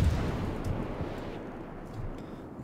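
Heavy naval guns of the cruiser Pensacola firing in a warship game, deep booming rumbles over a low continuous roar, loud and close.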